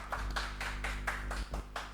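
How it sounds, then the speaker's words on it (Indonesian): Hands clapping at the opening of an Indonesian podcast episode, a run of about seven or eight sharp claps in a steady rhythm over a constant low hum, fairly close. "tepuk tangan"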